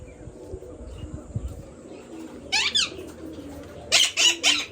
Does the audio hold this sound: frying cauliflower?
no